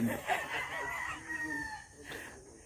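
A chicken gives a drawn-out, wavering call up close, followed by softer clucks, with faint background noise.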